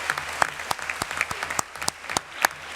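Close, scattered hand clapping from a small group, irregular claps with no cheering, steady for a few seconds.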